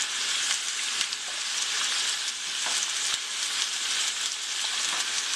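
Chicken fries in olive oil in a pan, giving a dense, steady sizzle throughout with faint crackles and pops, close and fairly loud, with no talking.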